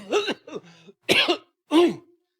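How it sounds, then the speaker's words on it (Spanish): Three harsh, throaty coughs close by, the first a double, with short pauses between them, from a cough lasting weeks. "Esta tos ya va 15 días"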